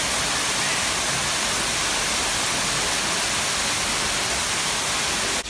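Aquarium waterfall, a steady loud broadband rush of falling water with no breaks, close and unchanging throughout.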